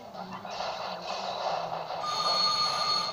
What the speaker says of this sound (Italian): c'è il telefono di casa che suona